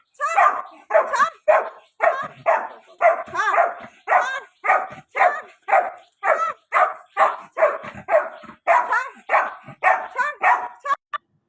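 A rescued street dog barks rapidly and repeatedly up close, about twenty loud sharp barks in a steady rhythm with brief yelping edges, and no talking over it.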